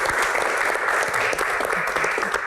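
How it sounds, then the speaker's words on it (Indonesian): An audience applauds a guest, Ibu Ria Sungkar, on a Q&A talk show stage, with dense, loud, steady clapping filling the whole moment and no talk over it. "Tepuk tangan untuk Ibu Ria Sungkar."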